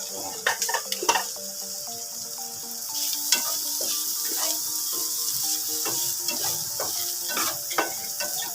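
Shrimp cutlets fry and roast in a pan, a soft steady sizzle with occasional crackles and utensil taps, heard up close.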